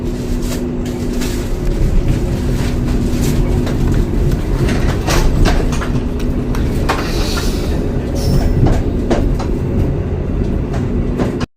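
Sangkuriang passenger train running on rails in Indonesia, a steady loud rumble of wheels and car body with a constant low hum and scattered clicks and squeaks throughout, close and continuous with no talk.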